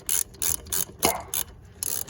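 A ratchet tightens a 10 mm clamp while a short ram intake goes into a 2002–2004 Acura RSX, producing about seven crisp, close clicks in a quick, even rhythm.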